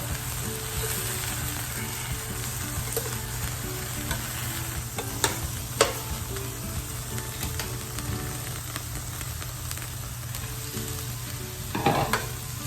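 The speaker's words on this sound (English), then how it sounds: "we're cooking this meat nice and slow. I'm at about 300 on this griddle" Meat cooks slowly under a lid on a griddle at about 300 degrees, making a constant even sizzle with a low hum and a few faint clinks and scrapes, no one talking.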